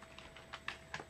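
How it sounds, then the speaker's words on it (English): A few separate key presses on a computer keyboard, including the tab key, click sharply and fairly close at an irregular rhythm over quiet background hiss while someone sets up PyCharm on a Raspberry Pi 4. "I hit the tab button on my keyboard and filled in the rest for me"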